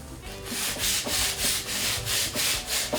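Back-and-forth scrubbing of rust off a metal thrift store chair with soda, about a dozen steady rhythmic rubbing strokes, close and loud with no talking.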